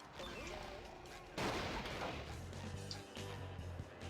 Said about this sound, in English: a giant cannon shooting beach balls at you